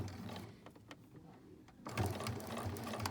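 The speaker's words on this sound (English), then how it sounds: "I'm going to sew until this line on my 1/4 inch foot is lined up with this raw edge." A home sewing machine stitches quilt binding with a 1/4 inch foot, humming quietly in short bursts before running louder and steadier near the end.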